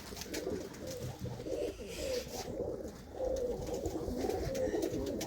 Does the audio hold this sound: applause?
no